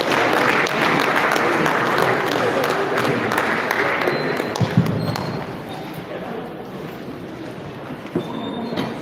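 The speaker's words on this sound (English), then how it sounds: "Let's give him a round of applause, please." An audience at a farmers' training workshop applauds, a broad steady wash of clapping that softens partway through, with a few louder claps near the end.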